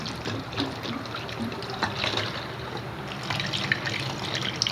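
Fog machine fluid pours from a bottle in a steady, splashy liquid stream with small glugs and drips, close and fairly loud, no talking.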